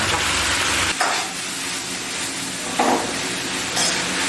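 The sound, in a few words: stir-frying beef with scallions in a wok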